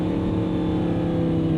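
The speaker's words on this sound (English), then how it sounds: "God, I love these downshifts though with the rev match. You just, a little bark." A 2011 Audi R8 V10 Spyder, mid-engine with a gated manual, gives a short throaty bark on a rev-matched downshift, its deep engine drone loud and steady throughout.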